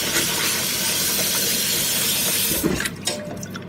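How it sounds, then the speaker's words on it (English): Cold tap water gushes steadily into a sink over freshly cooked blue swimmer crabs, a loud continuous hissing rush that cuts off sharply near the end, leaving a few softer splashes and drips. "now we're going to put cold water in there to cool them down and stop the cooking"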